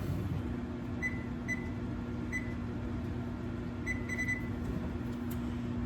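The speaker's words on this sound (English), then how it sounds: "So I'm going to put them in the microwave, and I'm only going to do 40 seconds." A steady low hum of a microwave oven running, with a constant drone and faint intermittent high beeps or clicks, no voices.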